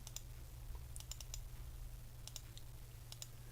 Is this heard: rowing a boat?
no